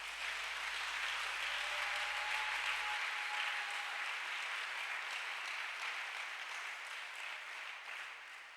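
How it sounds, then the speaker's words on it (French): A church congregation applauds during a French-language praise and worship service, a steady wash of clapping heard from a distance and held fairly evenly before slowly thinning toward the end. "On peut acclamer le Seigneur Jésus-Christ."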